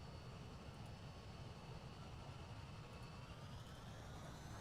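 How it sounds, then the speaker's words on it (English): Engines of an anti-submarine patrol plane in the naval video game Sea Power, a steady, loud droning roar that holds without a break, with faint rising tones above it as the engines spool up. "You can hear him ramping up the engines."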